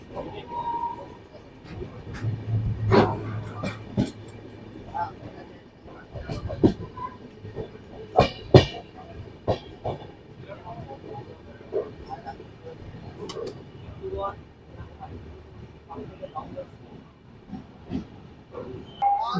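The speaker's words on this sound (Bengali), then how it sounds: "ট্রেন এখন ছেড়ে দিয়েছে, ট্রেন ঢুকছে এখন বর্ধমান জংশনে" The Guwahati–Howrah weekly 13182 express rolls into Bardhaman Junction, its low rumble and scattered clanks and clicks running under station noise and occasional voices.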